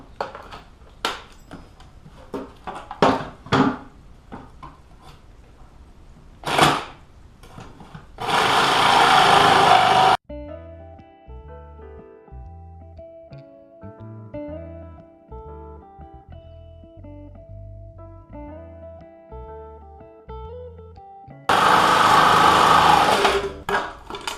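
A jigsaw cuts through a board in two loud, buzzing bursts separated by a quiet stretch with a few taps and handling noises, the motor whine steady and close during each cut.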